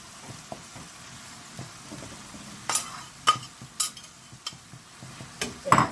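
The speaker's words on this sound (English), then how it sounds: "You saute the beef briskly on high fire until it is golden brown." Beef sautéing over high heat in a pan for stroganoff: a soft, steady sizzle punctuated by sharp scrapes and clinks of stirring against the pan, growing more frequent toward the end.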